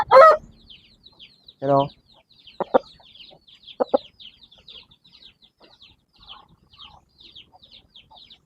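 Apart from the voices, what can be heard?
male chickens clucking in a yard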